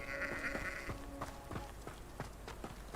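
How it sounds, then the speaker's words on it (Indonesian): A goat bleats in the video game Hogwarts Legacy, near a lake by the school. One drawn-out nasal bleat comes first, then a series of soft hoof-like knocks and rustles follow at a moderate distance. "Ada kambing. Halo kambing."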